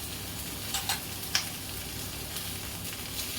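Ginger, garlic, tomato, green chili and cashews fry in a pan with a soft, steady sizzle and a few faint stirring clicks, fairly quiet and close, with no talking.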